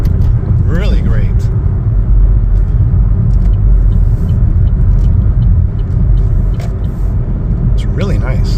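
Chevrolet Trax car accelerating on the road, a loud continuous low engine rumble and road roar heard from inside the cabin, with someone talking briefly over it.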